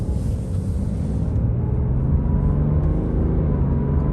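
A BMW X6 M sports SUV in manual mode accelerating hard, a loud steady engine drone and rising rumble heard from inside the cabin with no talk.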